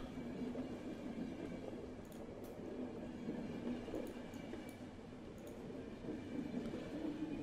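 A train running in the video game The Final Station, a continuous low rumbling rail drone with faint high squeaks, steady and fairly quiet, with no talk over it.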